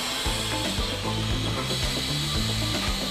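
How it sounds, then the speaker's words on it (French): Pneumatic multi-suction-cup gripper on a soap packing line placing soap bars, cardboard layer dividers and lids into wooden crates, heard as steady mechanical clatter with repeated rhythmic clunks and a constant hiss of machinery. "Le même préhenseur pneumatique met en place les intercalaires carton entre chaque couche de savonnette ainsi que le couvercle sur les boîtes."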